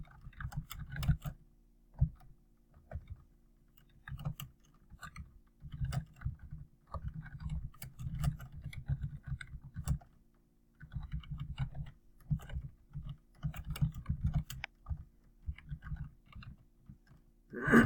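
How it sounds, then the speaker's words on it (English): Someone types on a computer keyboard in a quiet room, producing close, soft bursts of rapid key clicks separated by short pauses, with no talking. "now I could go ahead and type in my discussion"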